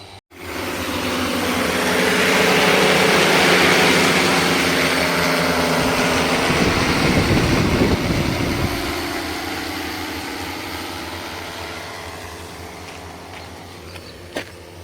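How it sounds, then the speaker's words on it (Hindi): Agricultural spraying drone over a cucumber field applying fungicide, a steady loud whirring rotor drone that swells and then slowly fades as it moves away, with no voices. "ये खीरे के खेत में ड्रोन से फंगीसाइड स्प्रे किया जा रहा है दोस्तों।"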